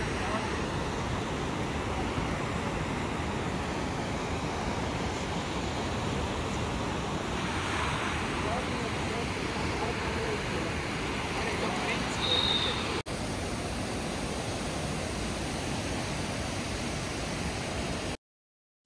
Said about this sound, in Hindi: जितनी शिद्दत से पानी आ रहा था, वो सुन सुन के थोड़ा डर भी लग रहा